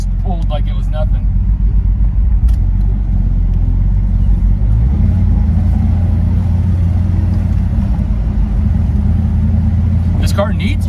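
A 1971 Ford Torino GT convertible with a 429 Cobra Jet V8 and four-speed manual rumbles steadily while driving, a loud, constant low engine drone with wind and road noise and some talking over it.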